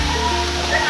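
The Rautwadi waterfall gives a steady, loud rush of falling water, continuous and close throughout this brief moment, with no break in the roar.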